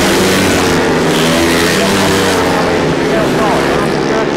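Grasstrack racing motorcycles at full throttle during a British Masters heat at Frittenden, a loud continuous engine roar filling the whole stretch with a pack of bikes racing close together, with a commentator talking over it.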